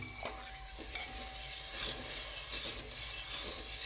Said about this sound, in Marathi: ते दूध हळूहळू घालून घेऊ आणि हे चांगलं मिसळून घेऊ